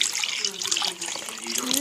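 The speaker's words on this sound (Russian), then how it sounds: "Нам нужно молоко налить в наши кружки." Milk is poured from a carton into mugs at home, a continuous trickling stream that sounds close and fairly loud, with its pitch climbing slightly as each mug fills.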